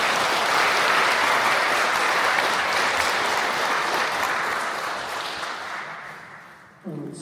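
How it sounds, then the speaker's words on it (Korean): Sustained, dense applause from a church audience welcoming a Catholic priest at a Franciscan parish talk on contemplation, loud and steady before tapering off near the end. "큰 박수로 맞이해 주십시오"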